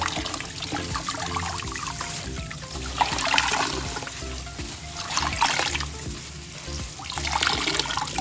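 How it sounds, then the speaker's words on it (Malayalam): Dyed fabric is rinsed by hand in fresh changes of water, with continuous close splashing, sloshing and trickling that swells and eases in waves. "ഇപ്പോൾ മൂന്ന് പ്രാവശ്യം നമ്മൾ പുതിയ പുതിയ വെള്ളത്തിൽ മാറ്റി കഴുകി"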